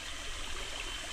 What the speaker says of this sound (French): Je m'arrête pour boire à ce creek.